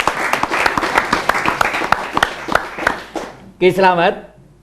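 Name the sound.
audience applause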